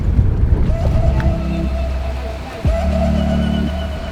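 A big ship moving through a shipping channel off the Great Barrier Reef, heard from a small boat as a low, steady engine drone with humming tones, while wind and water wash past nearby.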